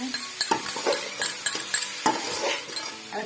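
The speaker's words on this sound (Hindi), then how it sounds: "अब इसमें यहाँ पे हम डालेंगे अदरक लहसुन का पेस्ट हमने बना के रखा था" Ginger garlic paste sizzling and frying in a pan for chicken pasta, stirred with a utensil that clinks and scrapes in an uneven rhythm of taps over a steady close sizzle.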